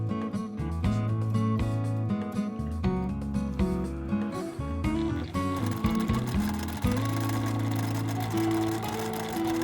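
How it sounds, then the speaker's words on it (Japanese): A sewing machine stitches fabric below a zippered pocket opening on a tote bag, a close, rapid mechanical whirring and clatter that starts, stops and restarts in bursts, with no voices. "まずはポケット口の下だけにミシンステッチを入れます。"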